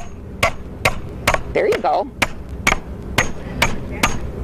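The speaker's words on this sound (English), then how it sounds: "so you can hammer all day long" Hammer blows drive nails at a Habitat for Humanity house build, about ten sharp, evenly spaced strikes close by, with a person speaking briefly between them.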